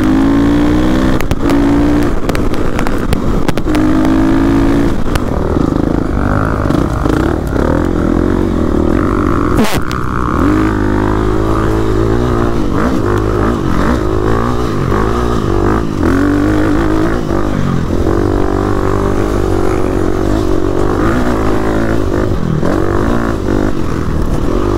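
An enduro dirt bike engine revs and strains as the rider climbs steep, slippery hills, loud and close throughout, with rising and falling throttle bursts and clattering over rough ground.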